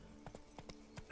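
Horse hooves clip-clop in The Witcher 3, a quick run of soft, evenly spaced hoofbeats from a galloping or trotting horse, fairly faint, ending in a louder swell.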